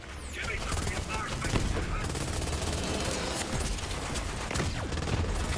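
Nighthawk gun in the shooter game Borderlands 3 firing in rapid continuous bursts, dense crackling shots with impacts filling the whole stretch, loud and close, with a voice talking over it.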